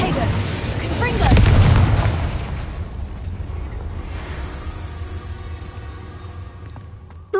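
Confringo spell explosion in Hogwarts Legacy, a loud burst around the first two seconds that rumbles and fades into a lingering low tail.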